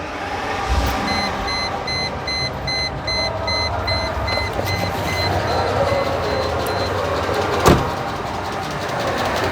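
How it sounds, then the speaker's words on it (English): A Mercedes SL600 V12 that has sat for years, running rough and misfiring on old fuel: a steady, uneven engine drone close by, with a faint repeating beep over it and a single sharp knock near the end. "I think it's misfiring, just got some bad gas in it."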